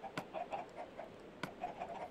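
Minecraft chickens cluck softly in short, repeated calls that sound fairly close, with a couple of sharp clicks in between and no talking.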